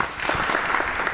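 A symposium audience on housing claps for sponsors, a brief burst of dense mixed applause from many hands in a community center hall.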